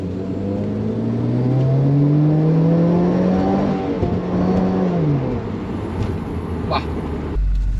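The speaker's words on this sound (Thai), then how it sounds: "เดี๋ยวขอดอนอัตราเร่งแซงดูนะครับไปครับ" A Subaru WRX accelerates hard to overtake, its engine note climbing steadily through the gear and holding a loud, near drone for several seconds, then easing off near the end.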